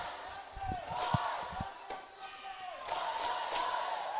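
Small crowd at a FIBA U15 women's Oceania basketball final between Australia and New Zealand, cheering and shouting in bursts, with ball bounces and a commentator talking over the moderate noise.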